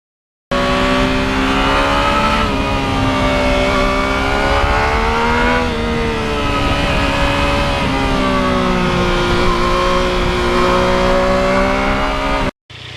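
A loud three-cylinder engine on a 2020 Yamaha MT-09 motorcycle revs continuously, its pitch rising and dipping through several gear changes, with steady wind rush and no voices.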